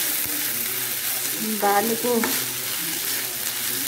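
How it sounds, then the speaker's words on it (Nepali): Bitter tite vegetable frying in a pan, giving a steady close sizzle throughout with a brief stirring scrape midway and a few spoken words. "अघि भारले पनि निकालेको तिते यहाँ भुट्दै गरेको"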